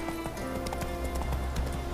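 The horse Roach gallops in The Witcher 3: Wild Hunt with a quick, rhythmic clip-clop of hooves over a dense game soundscape, the beats steady and close throughout.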